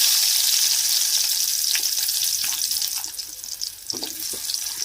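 Tomatoes and onions frying in a pan as the base of a chicken curry gravy give a steady, fairly loud hiss with a few soft clinks and stirring scrapes, and no voices.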